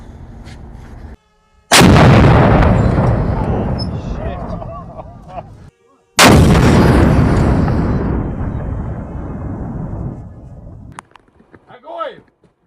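A T-62 tank's main gun fires twice, about four seconds apart. Each shot is a sudden, very loud blast followed by a long rolling rumble that fades slowly.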